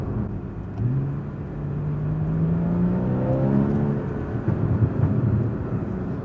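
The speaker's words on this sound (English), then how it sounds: "The 981 generation GTS cars, Cayman and Boxster, they have such a glorious flat six soundtrack to them" A Porsche 981 Cayman GTS flat-six revs up through rising engine notes, its tone climbing smoothly and loudly before settling into a steady drone, heard close by from inside or beside the car.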